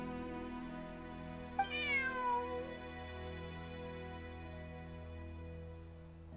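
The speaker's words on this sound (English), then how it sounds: "Bonnie is Pierre's cat." A cat named Bonnie in Genshin Impact lets out a single drawn-out, wavering meow over a quiet, steady background drone of game music.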